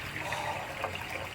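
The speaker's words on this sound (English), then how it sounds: "I am just so ecstatic that I'm filling a water tank." Steady water running and splashing into a van's water tank as it fills, a continuous close trickle lasting the whole moment before cutting off abruptly.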